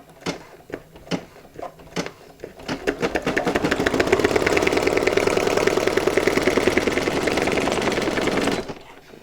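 A Brother SE1900 embroidery machine stitches a design onto a tote bag, its rapid needle clatter starting with a few separate clicks, then settling into a steady, loud, even mechanical chatter that runs until it stops abruptly.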